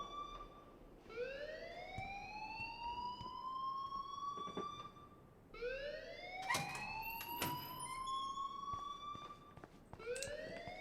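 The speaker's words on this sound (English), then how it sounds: "please turn off that alarm since that's your job" In the video game Life Is Strange, a school alarm sounds as a siren-like rising whoop that climbs and sustains, repeating about twice with a third starting, steady and fairly loud with nobody speaking.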